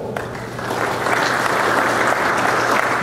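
An audience at a technical IT conference session bursts into applause, with dense clapping from many hands that quickly swells and then holds strong and steady.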